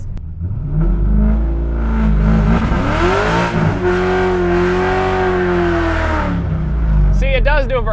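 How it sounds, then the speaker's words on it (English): A C5 Corvette does a burnout, its engine roaring loudly and steadily and its revs rising and falling, heard up close and continuous throughout. "See, it does do a burnout."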